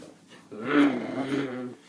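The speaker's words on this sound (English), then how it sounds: "He's growling." A low, rumbling growl from a puppy close by, lasting just over a second and rising then fading.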